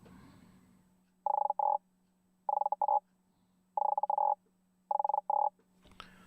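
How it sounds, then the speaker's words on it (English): A frog rasp, a guiro-type scraper, sampled in a percussion VST plugin, plays four evenly spaced croaking ratchet bursts, each a quick double scrape, crisp and dry against a faint steady hum. "A very popular toy is the so-called frog rasp,"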